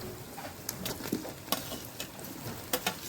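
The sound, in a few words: tomato and chili frying with onion on stove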